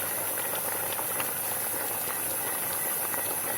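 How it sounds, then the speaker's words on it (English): A pot of lime mixture at a boil gives off a continuous bubbling hiss with small scattered pops, steady and fairly close throughout, with no one talking. "Okay, so it's boiling."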